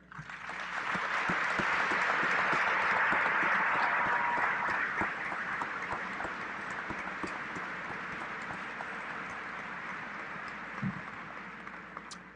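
A round of applause at a 2022 Harrisburg High School graduation ceremony as students entering the education field stand. The broad clapping swells quickly, holds steady, and fades slightly toward the end.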